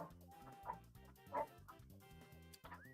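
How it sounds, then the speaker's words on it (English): Dogs barking and yipping in a garden outside, faint and distant, a few short yelps and a whimper over a steady background hum, with no talking. "Sorry if you can hear dogs in the background, by the way."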